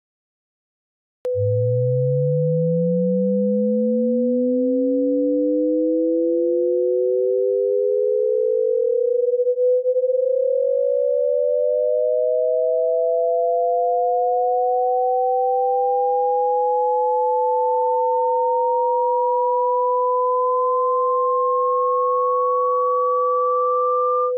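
Pure sine tones in a psychoacoustic demonstration of a cubic difference tone illusion: one steady tone held throughout while a second sine glides smoothly upward from low to high, crossing it, loud and alone with no talk.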